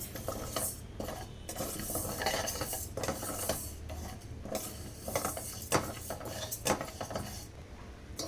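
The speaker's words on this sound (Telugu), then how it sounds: "ఇప్పుడు స్టవ్ ఆన్ చేసుకొని పెసరపప్పుని వేయించుకోవాలి" Two tablespoons of moong dal roast in a pan on a stove while a spoon stirs and scrapes, producing continuous close metallic clinks and rattling grain sounds with a faint sizzle underneath.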